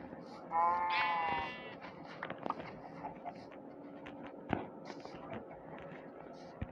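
A Minecraft sheep bleats once near the start, loud and wavering, followed by quieter scattered clicks and soft game-like background noise.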